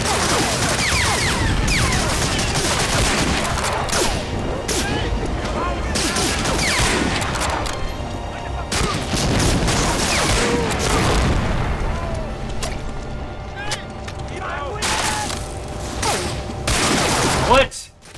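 Dense bursts of gunfire and explosions from the video game Medal of Honor Warchest fill the scene continuously, loud and layered, with a player talking over the battle.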